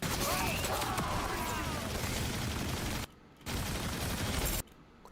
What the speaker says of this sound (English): I'm shooting my gun.